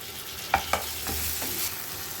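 Tomatoes are sautéed in a pan for a spicy capsicum dish. A few soft scraping strokes of a spoon are heard over a faint, quiet sizzle, with no talking.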